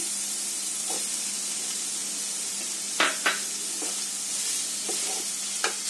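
Scrambled egg sizzles in a pan for chicken fried rice, a steady close frying hiss broken by a few sharp scrapes of a spatula stirring, with a low hum underneath.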